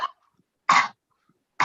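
Forced breathy exhalations, the big huff of a post-Covid pulmonary rehabilitation breathing exercise, come as short, separate bursts with silence between them, close and fairly loud.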